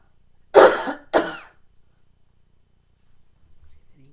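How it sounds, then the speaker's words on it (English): Two short, sharp coughs close by, followed by near silence. "this is the time to do your little cough"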